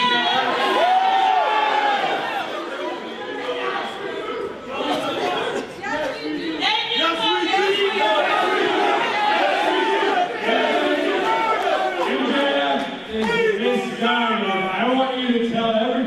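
Dense convention crowd at New York Comic Con chattering, with scattered shouts and cheers, a continuous loud wall of overlapping voices that never drops away across the whole stretch.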